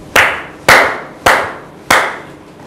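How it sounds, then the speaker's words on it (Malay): Clapping for Nazira comes as four sharp, loud claps, evenly spaced about half a second apart. Each clap rings briefly before the next, with no talk underneath. "Beri tepukan kepada Nazira."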